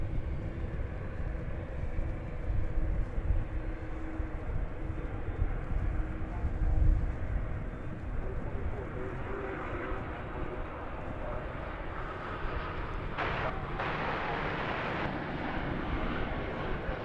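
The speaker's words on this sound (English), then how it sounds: "Another Dreamliner." A Boeing 787 Dreamliner airliner at DFW Airport sounds as a distant, steady low jet rumble with soft broadband hiss, fairly faint and continuous throughout.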